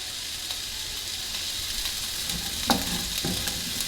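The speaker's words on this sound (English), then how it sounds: "First, the onions going in, and then you just move that around until it softens." Chopped onions sautéing in a pan give a constant bright sizzle, with a few soft scrapes and clinks of a utensil moving them around near the end.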